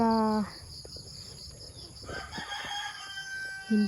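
A rooster crows once at the start and again at the end, loud and near, over a steady chorus of crickets and insects with faint clucking in between.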